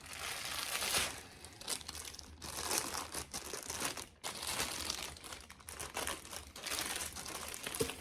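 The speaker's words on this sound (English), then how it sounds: "Let's take off the plastic." Plastic wrapping is crinkled and pulled off a BenQ e-reading lamp up close, producing continuous crackling and rustling in irregular bursts with brief pauses, no voices.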